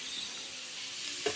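Vegetables frying in a pan during home cooking for a Bihu meal give a steady, close broadband sizzle, with one brief clink of a utensil near the end.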